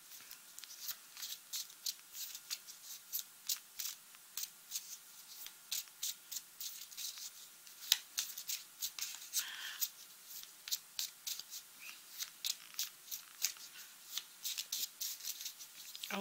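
Tarot cards are shuffled by hand in soft, close riffles and slides that repeat steadily in quick bursts, quiet throughout.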